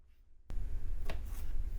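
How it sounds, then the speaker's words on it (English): A train passes very close by, its broad roaring rumble surging in abruptly after a quiet moment and then holding loud and steady to the end. "You can probably hear the train going by."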